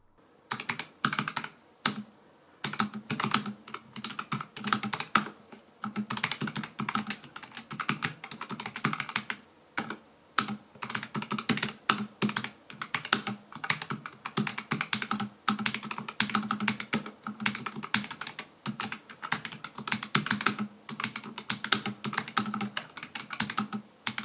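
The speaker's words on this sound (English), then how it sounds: "that was the low profile key test there for the red switches" Steady typing on a ProtoArc MECH K300 mechanical keyboard with low-profile red switches, rapid soft clacks in irregular bursts with brief pauses, close up and with no talking.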